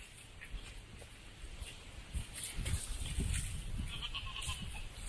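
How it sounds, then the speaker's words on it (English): Goats bleat several times outdoors as they are brought inside on a property, their calls overlapping over a rustling background, with footsteps and no talking. "I'm about to go bring in the goats because they are not to be trusted when I leave the property"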